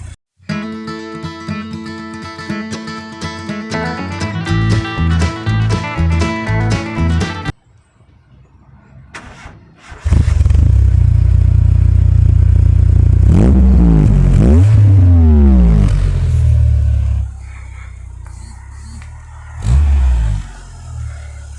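After a stretch of music and a brief pause, a 1996 VW Golf Mk3 SE with a standard exhaust cranks and starts, idles, then revs in several rising-and-falling bursts close by before settling back.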